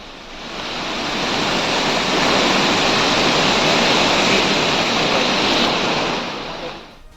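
Swollen, rain-fed Bhagirathi river surging past riverside ghats, a steady, loud broadband rush of fast water that holds constant throughout and tapers slightly at the end.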